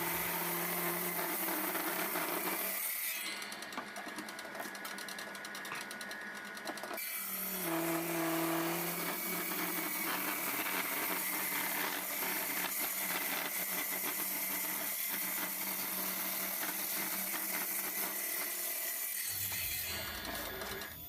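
A machine rips planks of dried wood into strips for a simple table frame, a steady whining motor with a higher-pitched burst of cutting noise partway through, loud and continuous for about twenty seconds with no talking.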